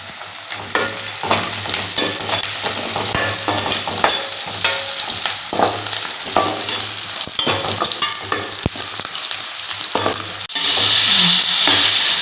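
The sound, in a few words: chana dal, onion and chilli sautéing in pan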